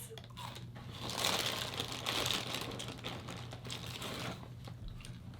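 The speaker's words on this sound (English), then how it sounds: "be in the video, but don't eat mini wheats" Someone crunches Mini-Wheats cereal close by, a dense, irregular crackle of chewing that swells and fades over several seconds, with no talking.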